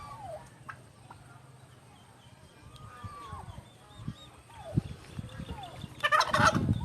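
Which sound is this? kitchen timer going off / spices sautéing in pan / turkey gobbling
turkey gobbling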